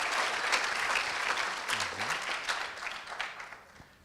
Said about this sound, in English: You should clap for Alex.